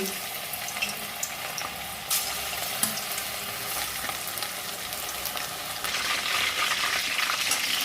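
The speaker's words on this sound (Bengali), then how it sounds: "চিকেন পকোড়াগুলো ভেজে নিচ্ছি" Chicken pakoras deep frying in hot oil, a steady close sizzle and bubbling crackle that swells louder toward the end, with no talk over it.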